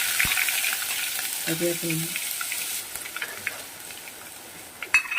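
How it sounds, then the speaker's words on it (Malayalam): Ginger and garlic frying in a pan, a steady bright sizzle throughout with brief clinks of a utensil stirring and a short spoken word. "ഇവിടെ ഇഞ്ചി വെളുത്തുള്ളി ഇടാൻ പോവാണ്"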